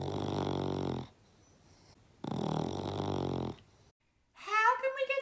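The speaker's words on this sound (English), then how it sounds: "How can we get Dog to stop snoring so we can all get some sleep?" A loud, drawn-out snore rendered as a dog snoring, two long rumbling breaths with pauses between, followed by a higher wheezy whine.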